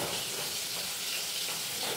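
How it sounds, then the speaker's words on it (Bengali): Fish frying in a pan, a steady dense sizzle and hiss running evenly throughout, fairly close and with no talking over it. "এই মাছগুলো হলো, এবার এটা ভাজি"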